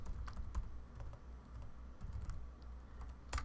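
Quiet typing on a computer keyboard, a scattered run of light clicking keystrokes, close by and heard alone.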